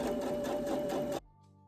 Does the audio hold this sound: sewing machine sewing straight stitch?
yes